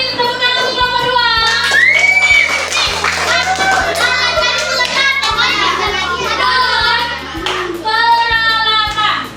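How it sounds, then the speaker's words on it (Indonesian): Schoolchildren clap for group 2 in an Indonesian classroom, a loud sustained round of applause mixed with excited voices and shouts, close and lively throughout. "Kasih tepuk tangan untuk kelompok 2."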